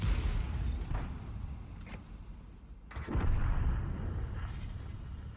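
A tank's main gun in a tank video game fires from a bush, booming heavily amid further distant blasts and a low rumbling battle backdrop, with no talking.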